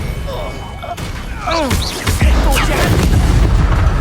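A Bombarda spell explodes during a Hogwarts Legacy battle, a heavy booming blast with a low rumbling tail mixed with game effects and a voice in the fight.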